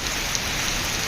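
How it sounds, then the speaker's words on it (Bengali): Heavy rain falls at night as a dense, even roar of drops on surfaces, loud and close, steady throughout with no voices. "দেখুন, বৃষ্টি খুব জোরে জোরে ফুকলা পড়ছে।"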